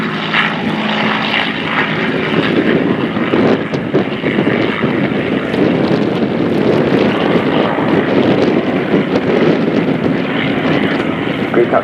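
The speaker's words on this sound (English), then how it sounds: "As Group Captain Mike Warfield comes into the Hurricane display" Hawker Hurricane fighter from the Battle of Britain Memorial Flight in a display at an air show, its piston engine droning loud and continuous as it passes, with a commentator speaking over it.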